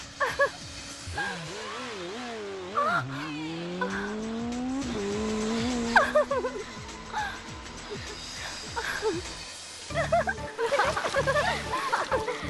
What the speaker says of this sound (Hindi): तुमने देखा था ना कितनी जबरदस्त बाइक चला रहा था वो